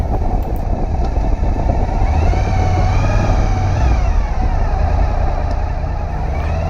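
Motorcycle climbing a paved mountain road through fir, oak and cedar forest, its engine droning steadily and loudly throughout with a rising, shifting whine, close and continuous.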